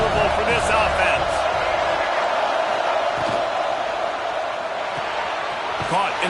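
Dense roar of a stadium crowd at a Memphis vs Arkansas college football game, continuous and loud beneath a commentator's voice.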